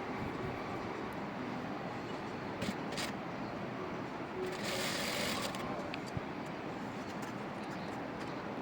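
Continuous close whirring of a sewing machine stitching a long seam from top to bottom on a three-tier maxi dress, a steady rapid running hum with a few small clicks and no pauses.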